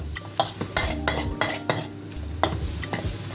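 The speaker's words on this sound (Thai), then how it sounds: "อาผัดหมูเข้าไปนะครับ รวมกับไข่แล้วครับ" Pork and egg stir-fried together in a hot wok for pad see ew, with steady sizzling and repeated sharp scrapes and clacks of a spatula against the pan, close and alone without talk.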